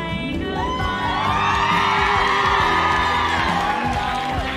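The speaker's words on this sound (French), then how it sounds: "C'est des femmes que j'entends crier là, pas des hommes." A crowd of women screams and cheers in high, sustained, wavering shrieks that overlap and fill the whole stretch loudly. The cheering reacts to a muscular man.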